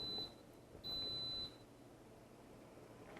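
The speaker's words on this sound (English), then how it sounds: "It's going to beep in a moment telling me that the Instant Pot has started" An Instant Pot Mini, powered from a portable power station, beeps as it starts a high pressure cycle. There is one short electronic beep and then a longer one, clear over a quiet hum.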